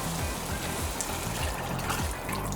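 Water pours into a pot of cooking chickpeas for Trini curry channa: a steady, continuous splashing gush at close range that runs throughout.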